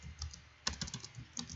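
Computer keyboard keys pressed in a quick paste shortcut, a handful of soft, close clicks in a short burst with small pauses, no voice.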